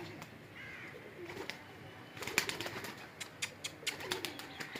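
Pigeons near a rooftop loft take off, their wings clapping in quick, sharp bursts, quiet and slightly distant, with faint birdsong around them.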